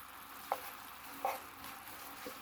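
Dried pollack strips are stirred into a boiling seasoning sauce in a pan, a steady soft sizzle and bubble broken by two or three louder scraping stirs, close by with no voices.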